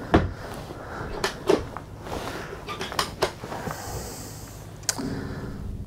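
Several wooden knocks and clunks as a drawer on an Allures 45.9 sailboat slides open and shut, with a short scrape and a clatter near the end.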